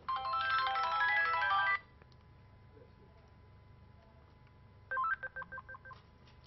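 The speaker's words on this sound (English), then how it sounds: "Oops, I forgot to turn off my cell phone today." A cell phone ringtone goes off during a calculus lecture, a loud electronic melody for nearly two seconds, then after a pause a short burst of beeping tones as the phone is silenced.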